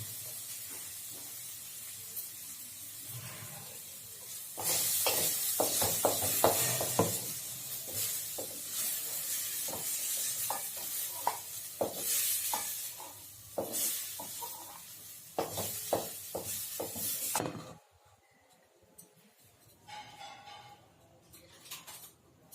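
Chana dal is stirred and roasted in a pan, with a spoon scraping in repeated bursts over a dry sizzle and hiss that fades to near quiet at the end.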